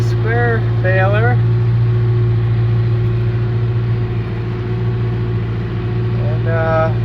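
A tractor engine idles steadily in a hay field, a constant low rumble throughout, with someone speaking briefly over it at the start and end.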